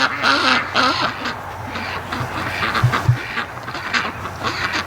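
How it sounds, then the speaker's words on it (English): Muscovy ducks drilling in garden mud give repeated nasal honks and quacks at close range, layered over a steady background hiss and scattered low thumps. "Ducks aren't doing much except just drilling in the mud."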